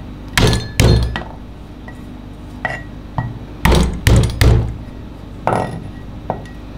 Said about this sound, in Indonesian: Ada 2 siung bawang putih. Kita cincang halus.